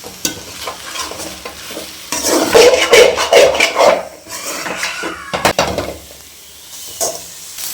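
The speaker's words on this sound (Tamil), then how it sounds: "முட்டை வந்து இந்த மாதிரி லைட்டாக வணங்கினதுக்கப்புறம் இப்போ கருவாடெல்லாம் சேர்த்து மிக்ஸ் பண்ணிக்கலாம்" Egg and dry fish being stirred and mixed in a pan with a utensil, scraping and clinking against the pan in bursts over a soft sizzle, with quieter gaps between strokes.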